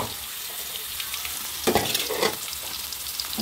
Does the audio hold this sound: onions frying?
yes